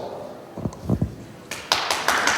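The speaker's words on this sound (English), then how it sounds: "the clapping comes after" A short patter of audience clapping at a panel discussion, a few isolated claps at first swelling into a brief burst of applause from a small group.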